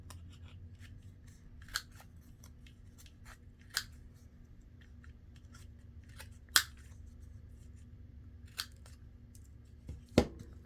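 Scissors snip around the corners of a fabric patchwork pocket, with sharp, isolated cuts spaced a second or two apart against a quiet background.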